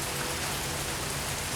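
Steady heavy rain falls outdoors in Louisiana, a dense, continuous hiss of drops on surfaces with no breaks, loud and close throughout.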